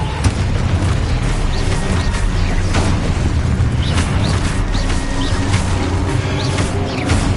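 Spell explosions from Expulso and Confringo in Hogwarts Legacy, loud continuous booming blasts and bursts packed densely with repeated sharp impacts and combat noise.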